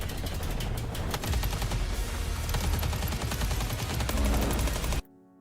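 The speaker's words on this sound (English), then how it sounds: "You can see right there the bullets actually bouncing off the Triceratops." Rapid automatic gunfire in the dinosaur game Ferocious, bullets striking a Triceratops: dense, continuous rattling bursts, loud and close, for about five seconds before stopping suddenly.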